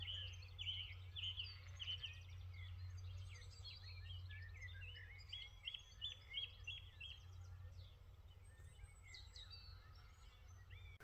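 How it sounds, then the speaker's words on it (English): Birds chirp and trill steadily in the distance over a low constant hum, an open countryside scene with no talking. "the bird's song and the lambs bleating in the distance is amazing"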